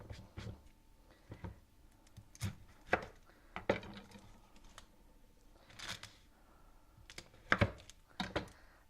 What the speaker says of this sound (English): We're going to cut up an onion so that we can put it in with our ground beef.